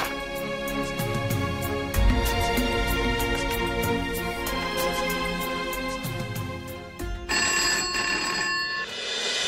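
A telephone rings in repeated electronic trills, a loud bright ringtone cycling several times, with a short burst of different tones near the end and no voices.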